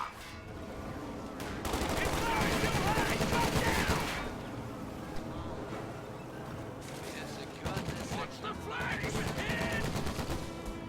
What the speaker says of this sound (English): There goes the MG-42